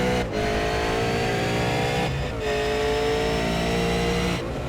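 Race cars at Donington Park circuit, engines roaring loudly with pitch dropping through downshifts and braking, then revving again, with a brief gap between passes.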